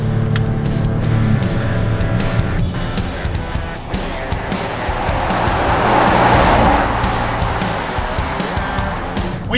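A 2019 Ford Edge ST in Sport mode accelerates hard, its engine note swelling steadily and loudly across the whole stretch with no talk.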